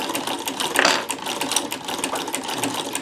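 A sewing machine fitted with a Davis vertical feed scallop plaiter attachment runs in quick rhythmic stitching bursts, close and clear, alone without talk.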